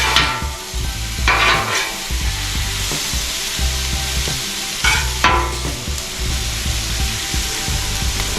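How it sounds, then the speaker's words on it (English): Chili lime chicken fajitas stirred and tossed on an outdoor griddle, a steady loud sizzle with scraping spatula strokes breaking through at intervals, close up and without talk. "Give that a good mix together."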